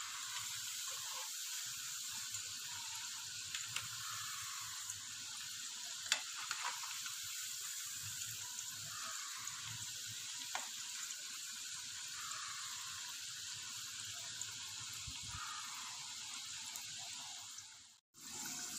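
Cauliflower florets for gobi 65 sizzle steadily in hot oil while being turned, a constant close crackling hiss with small spatters and a brief clatter near the end.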